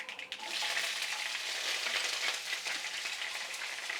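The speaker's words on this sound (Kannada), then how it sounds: "ಹಸಿಮೆಣ್ಸಿಕಾಯಿ ಹಾಕ್ತಾಯಿದ್ದೀನಿ" Green chillies hit hot oil for a pumpkin palya and set off a loud, dense, crackling sizzle that swells quickly and holds steady without speech.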